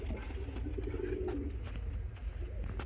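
Omski pigeons with feathered feet give soft, low cooing calls close by, a few gentle murmurs over a background of rustling and handling noise.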